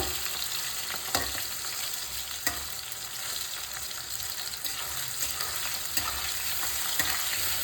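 Cut potatoes fry in hot oil for a paneer kofta dish, giving a steady bright sizzle broken by a few sharp clicks as they are stirred, continuous and close with no talking.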